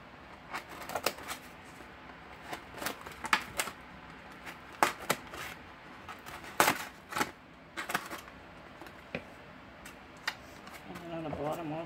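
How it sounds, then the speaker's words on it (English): Small hole being cut by hand in a fall craft project, a series of sharp, close snips and clicks scattered irregularly with brief crinkling handling sounds between them. "cut me a little hole in here"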